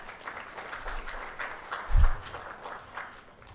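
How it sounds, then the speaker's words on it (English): Applause from a stakeholder workshop audience for the project manager, light and scattered, with many hands clapping at a moderate distance and one brief low thump partway through. "A big round of applause for the project manager."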